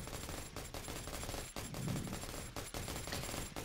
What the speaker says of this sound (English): the shooting sounds just constantly plays